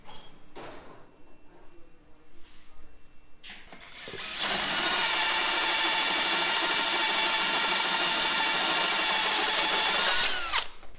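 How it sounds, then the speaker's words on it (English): After a few faint clicks and rattles, a power drill whirs loudly and steadily for several seconds while drilling holes during Jeep repair work, then stops abruptly. "Drilling holes is one of Matt's strengths."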